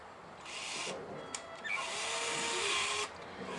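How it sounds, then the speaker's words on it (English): A cordless drill turning in a shed gives a steady high whir with a brief pause near the start, then runs continuously at moderate volume and close range, with no talking. "Grab your cordless drill."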